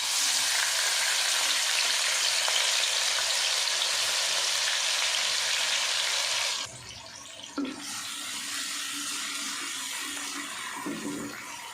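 Finely chopped onion frying in oil in a pan gives a steady, loud, broadband sizzle that dips briefly midway before resuming, with no talking.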